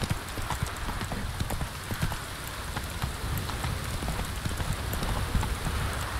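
Horse hooves clip-clop steadily at a walking pace in The Witcher 3, the hoofbeats close and even over a constant hiss of falling rain.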